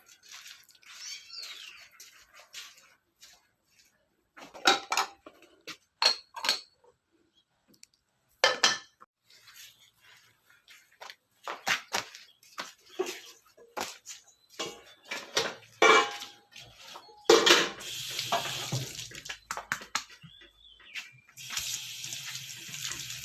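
Grill pans used for grilled meat, along with dishes, clatter in a kitchen sink with running water, scraping and clinking in irregular bursts, close by, with no talking.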